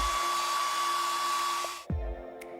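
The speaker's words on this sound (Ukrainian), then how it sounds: "У другий рукав вкладаємо фен і сушимо волосся в футболці." A hair dryer blows steadily at close range inside a T-shirt sleeve while drying hair, a broad airy roar that cuts off abruptly near the end, leaving a low thump and quiet room noise.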